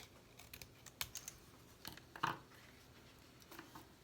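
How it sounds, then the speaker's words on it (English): Faint, sparse snipping clicks of scissors trimming paper along a straight line for a craft project, a few separate cuts spaced out against a quiet background. "So let's trim this around. And again, it's a straight line, so the scissors will be fine."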